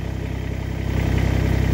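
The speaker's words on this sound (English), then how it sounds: "so I just idle the tractor down and then just push the third function valve the other direction" A Kubota BX2670 compact tractor diesel engine idles with a steady, close, rhythmic chug that grows slightly louder near the end, with no talking.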